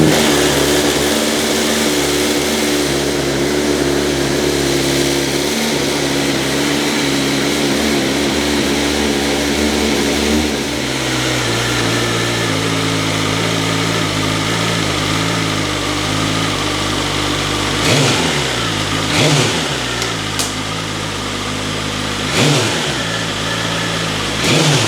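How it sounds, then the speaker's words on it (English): A BMW M1000R motorcycle on its stock exhaust idles with a steady, loud, close drone, then settles lower before several sharp throttle blips rev it up and drop back. "let's have a quick listen to the stock exhaust that's on this"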